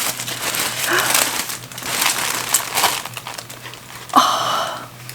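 Wrapping paper from a gift unboxing crinkles and rustles in repeated bursts, close and fairly loud, with a sharper crumple near the end.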